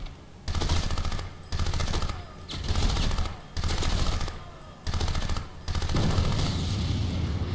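Automatic gunfire in the video game Crysis crackles in repeated bursts of about a second each, separated by short quiet gaps, the final burst running longest.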